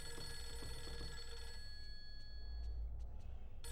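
A telephone rings with a steady electronic trill in the horror game Fatal Frame 3, set against a dark ambient hum and low drone, with no one speaking.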